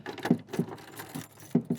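A key working the lock of a DECKED truck bed drawer, a few close metallic clicks and jangles in two short bursts, heard alone.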